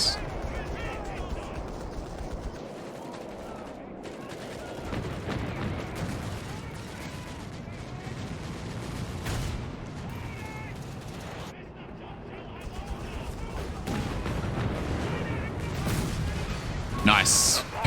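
Artillery barrage in the strategy game Company of Heroes 3, a continuous rumble of distant shell impacts and gunfire rolling under a dense battlefield din, with a sharper burst near the end.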